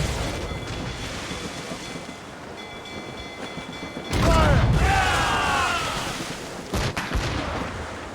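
Ship cannons fire in Assassin's Creed Rogue, a heavy booming volley bursting out over steady sea and wind ambience, followed by a second blast as crew shouts ring out.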